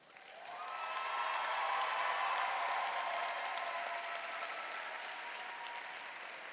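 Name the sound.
graduates applauding at NAU commencement ceremony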